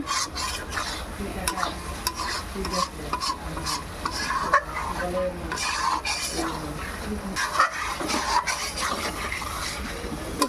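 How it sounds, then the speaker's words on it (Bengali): Chicken pieces and potatoes sauté in a pan for a chicken curry. A spatula stirs and scrapes almost continuously over a steady, moderate sizzle, with faint clinks of metal on the pan. "কষানো হচ্ছে আলু দিয়ে"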